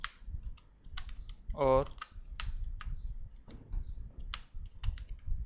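Keys on a computer keyboard click in short irregular bursts as HTML title text is typed, close and fairly quiet, while someone speaks briefly over the tapping.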